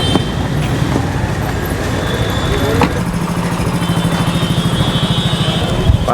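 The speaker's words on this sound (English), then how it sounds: "This is a whole huge traffic jam here." A dense traffic jam in an Old Delhi street near Chandni Chowk, with idling car and motorcycle engines, rumbling buses and scattered horn beeps, busy and close all around, with voices mixed into the din.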